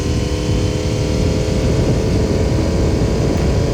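Car driving with a loud Super Trapp exhaust, after a repair, pulling hard: a steady, full-bodied engine drone runs throughout at close range, with no talking.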